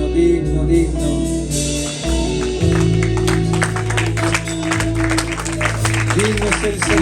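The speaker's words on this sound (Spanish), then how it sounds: "Mientras se extiende ese aplauso" Applause from a church congregation, steady clapping running under worship music and singing voices throughout.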